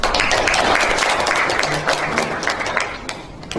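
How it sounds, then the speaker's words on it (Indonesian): Applause from a seminar audience at an Islamic talk on the Quran and science, a dense wash of clapping sustained for several seconds, loud at first and thinning slightly toward the end. "Beri aplaus yang meriah dulu untuk kita."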